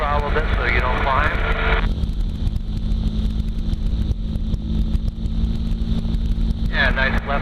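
Engine of a tow aircraft throttled back while towing a hang glider, a steady loud drone with broad wind rush that runs throughout; voices talk briefly over it at the start and again near the end.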